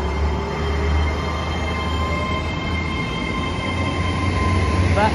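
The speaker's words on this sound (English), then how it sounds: "there goes the Great Western Railway service to London Paddington via Oxford" A Great Western Railway train bound for London Paddington via Oxford passes close by on the Cotswolds Line, a loud continuous rolling roar with faint wheel squeal and a steady rumble throughout.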